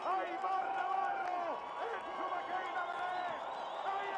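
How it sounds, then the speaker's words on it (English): A home crowd cheers and sings at a Freeride World Tour ski event in Baqueira Beret, Val d'Aran, a dense, steady roar of massed voices with sung lines rising through it, with a commentator talking over the top. "they are singing for him and cheering"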